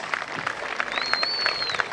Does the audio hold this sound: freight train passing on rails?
no